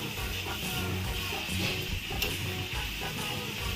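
Ginger and garlic stirring and frying in hot oil, a steady dense sizzle and crackle with faint scraping of the stirring, continuous and fairly close with no talk.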